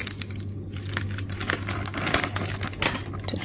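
A knife saws through a hard-crusted sourdough loaf made in a bread machine, giving a continuous close crackling and crunching with rapid scratchy strokes and no talking.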